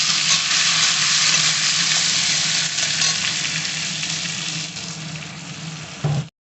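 Chopped garlic and capsicum fry in hot oil for chilli soyabean, a loud, continuous, close-up sizzle with faint stirring that cuts off abruptly at the end.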